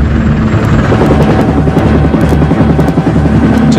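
A CH-53E heavy-lift military helicopter of the United States Marines thunders very loud and close, its rotor chop beating rapidly over a dense engine roar without pause.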